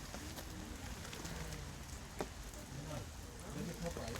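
Steady rain patters over a bamboo forest park in Damyang, a continuous even hiss of drops on surfaces, with faint voices talking quietly underneath.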